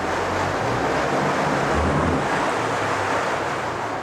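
A 2007 Mercury 115hp four-stroke outboard motor with a 20-inch shaft runs in a water test tank at light throttle, a loud, steady churning roar with a low engine drone beneath.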